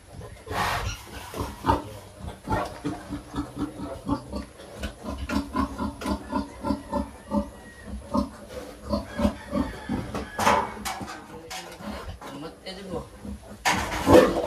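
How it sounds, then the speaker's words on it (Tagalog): Native pigs on a farm grunt repeatedly in a rapid, rhythmic series, close and fairly loud, with a few sharper squeals and a voice talking over them. "ganyan ka-agresibo ang native pig, mga ka-farmer, mga baboy na yan"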